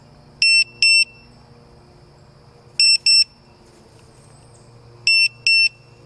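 Drone finder beepers, a ViFly Finder 2 and a standard beeper, sound piercing, high electronic double beeps, three evenly spaced pairs of loud, clipped tones against quiet outdoor background.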